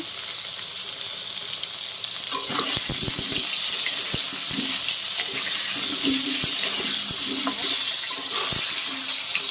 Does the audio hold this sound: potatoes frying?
yes